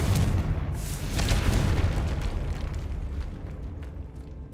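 A Confringo explosive spell in the video game Hogwarts Legacy bursts with a loud, close boom that crackles and rumbles, then slowly fades over several seconds.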